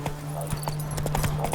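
Roach the horse trots along in The Witcher 3 game, a quick run of soft clip-clopping hoofbeats at a regular rhythm, fairly faint and close, set over a steady low hum.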